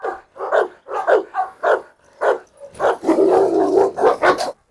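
Several Cane Corso dogs, including a blue one, bark loudly and close by in a rapid series of deep, repeated barks that build into a dense, overlapping burst.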